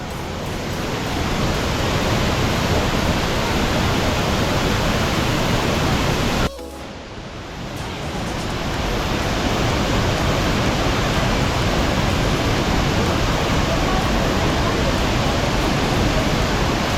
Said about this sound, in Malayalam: അവിടുന്ന് നമുക്ക് നല്ല രീതിയിൽ വെള്ളച്ചാട്ടം കാണാൻ പറ്റുന്നുണ്ട്